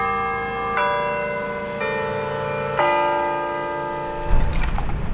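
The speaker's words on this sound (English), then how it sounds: "Like hanging out with Jefferson's beautiful bells" Large church bells in Jefferson, Iowa ring out in several slow, resonant strikes, each tone lingering and overlapping, followed by a burst of rougher noise at the end.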